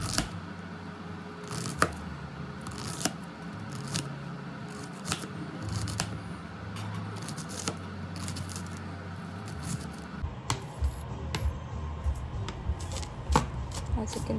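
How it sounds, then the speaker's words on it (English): A knife chops an onion on a cutting board in a home kitchen, making irregular light taps and clicks over a low, steady background hum. "I just chip it up, and then I will go crisscross applesauce with the knife."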